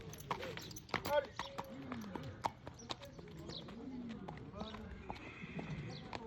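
Horse hooves clip-clop steadily during riding instruction in a French horsemanship lesson, with regular nearby footfalls, a few bird calls and people talking over them.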